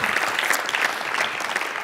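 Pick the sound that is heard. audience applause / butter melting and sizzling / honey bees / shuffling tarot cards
audience applause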